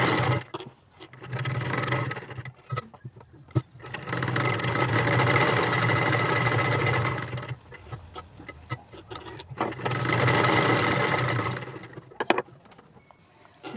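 A sewing machine stitches a boat neck blouse in two long steady runs of whirring motor, each lasting several seconds, separated by brief pauses and small clicks, close and fairly loud.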